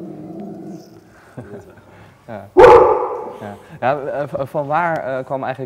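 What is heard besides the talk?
dog barking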